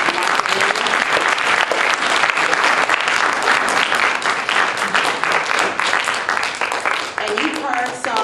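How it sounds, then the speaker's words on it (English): Audience applause for a keynote speaker at a Black history forum, a dense, steady roar of many hands clapping that fills the whole stretch at full loudness. "let's give another round of applause for our keynote speaker, Dr. Mark"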